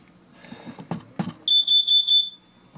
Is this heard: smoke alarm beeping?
yes